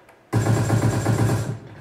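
Rapid automatic gunfire from a video game, fired by holding the trigger on a Mobapad Chitu HD gamepad with Hall-effect mechanical buttons: a dense, steady rattle of shots lasting about a second and a quarter, loud and alone, then cutting off.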